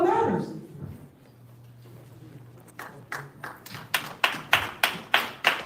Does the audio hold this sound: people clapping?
yes